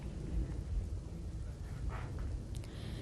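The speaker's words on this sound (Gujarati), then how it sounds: "ખાસ કરીને ગ્રામ્ય વિસ્તારોમાં ધોધમાર વરસાદ વરસી રહ્યો છે।" Heavy downpour over rural villages in Dwarka, with a steady broadband wash of rain and low rumbling thunder throughout, plus a brief brighter crackle near the end; no voices.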